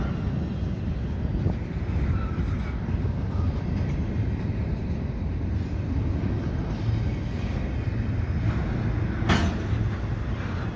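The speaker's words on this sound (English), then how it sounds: "Train is on track 2." A KCS Southern Belle train rumbles steadily along the track at Dorval near dusk, a continuous low roar with faint rail clatter throughout, fairly close and loud.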